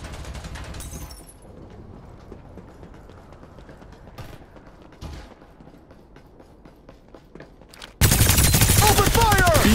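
Bursts of gunfire in the shooter game Farlight 84 during a team deathmatch, scattered shots through the first eight seconds, then a sudden loud, dense stretch of fire that swamps everything at the end.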